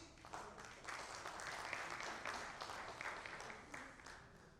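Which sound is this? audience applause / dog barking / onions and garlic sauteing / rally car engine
audience applause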